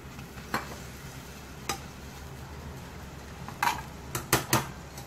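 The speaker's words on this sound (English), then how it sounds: "So I'm adding the rice." Rice being stirred into a frying pan with potatoes and vegetables over a faint sizzle, marked by a few sharp scraping and clinking strokes of the spoon that cluster toward the end.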